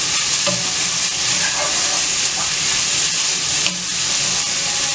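Onions, ginger, garlic and green chillies sauteing in coconut oil for a Kerala chicken curry, a steady loud sizzle with scraping stir strokes running throughout, close up and with no talk.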